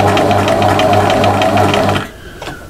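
A sewing machine stitches fabric for a tea mat, running at a steady, fast, rhythmic whir for about two seconds, loud and close, then stops abruptly with a faint click afterward.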